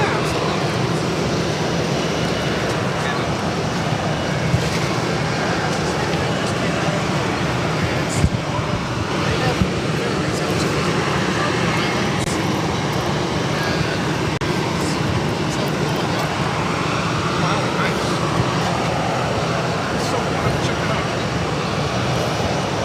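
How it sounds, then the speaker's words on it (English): A Spirit Airlines Airbus A320 bound for Fort Lauderdale at Boston Logan produces a broad, steady jet roar throughout, with traffic-like rumble and speech over it. "with Spirit Airlines A320 heading to Fort Lauderdale, Florida."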